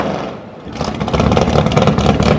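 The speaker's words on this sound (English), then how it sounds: "when I fire the car up, you'll hear me, I'll walk the throttle" A drag racing car's engine is fired up and the throttle walked, with a brief lull followed by a loud, rough, pulsing rev that rises and holds close by, with some mechanical clatter.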